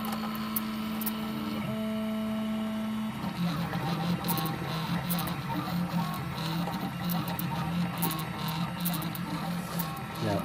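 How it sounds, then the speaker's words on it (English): A Prusa 3D printer lays down a plastic outline: steady stepper-motor whine and buzzing tones, shifting pitch as the head moves, with faint clicks, close and continuous. "Now it lays down a line around where it's going to print, and this one's going to print 9 clips."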